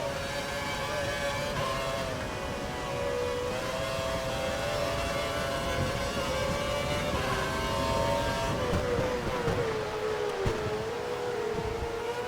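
Formula 1 race car engine in the F1 2012 video game at Abu Dhabi's Yas Marina, a steady high-pitched whine with shifting gear tones, holding loud and continuous throughout.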